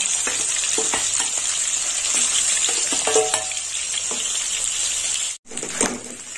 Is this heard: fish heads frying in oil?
yes